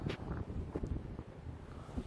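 Wind buffets the microphone steadily at an outdoor salvage auction lot at sunset, a low rumbling roar with gusty flutters throughout.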